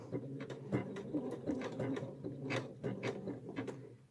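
A sewing machine stitching at a width setting of 5, its quick mechanical rattle pulsing steadily and close by under a person talking.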